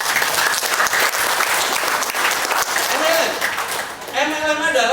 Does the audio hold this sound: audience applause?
yes